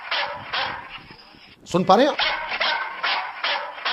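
A dog-bark sound effect in a Bigg Boss 19 reality show: a brief, loud yelping bark bursts out between stretches of someone talking.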